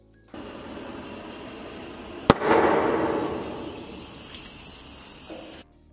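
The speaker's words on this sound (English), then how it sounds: "You can see the hydrogen nicely burned. I expected a sharper bang" A balloon filled with hydrogen from a homemade generator goes off in one sharp bang. A short, soft roar of burning gas follows and fades over about two seconds against quiet outdoor background with crickets.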